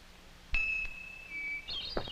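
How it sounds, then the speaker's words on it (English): A bell rung as a reward signal during pig training gives a clear ding with a long, sustained ringing tone, followed by a second, brighter chime and a short knock near the end. The setting is otherwise quiet. "The bell is the signal that tells the animal he's done the right thing and is about to receive a reward"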